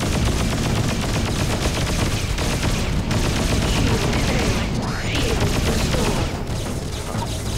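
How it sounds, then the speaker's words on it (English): Rapid, overlapping gunfire from a space-combat battle in the video game Freelancer (Crossfire mod), a loud and dense barrage of shots that runs continuously through the whole stretch without pause. "I'm returning fire"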